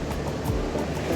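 Strong ocean waves crash at Punta Fuego beach during a typhoon, producing a loud, dense roar of surf that churns continuously with surging swells and no talk over it.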